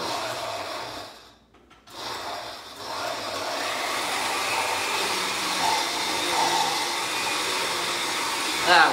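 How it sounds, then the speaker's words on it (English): Blender pureeing ingredients in a cooking class, a steady whirring motor hum that starts after a brief pause and runs on continuously, close by, with a faint voice early on. "we're gonna see if we can puree this up a little bit"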